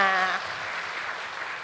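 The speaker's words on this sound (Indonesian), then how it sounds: "Tepuk tangan dulu dong buat kita semua" An audience at a seminar session on child psychology breaks into a short round of applause that rises just as a voice trails off, leaving a soft, even wash of clapping.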